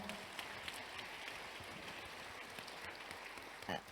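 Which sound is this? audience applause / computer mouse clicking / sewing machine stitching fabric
audience applause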